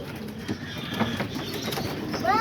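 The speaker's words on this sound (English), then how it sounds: "all the pigeons are out here going crazy" Pigeons at an outdoor feeding spot cooing softly, scattered low murmurs over a steady ambient hiss, with a brief higher chirp near the end from another bird.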